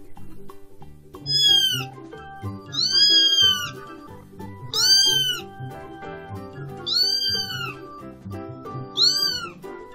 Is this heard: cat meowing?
yes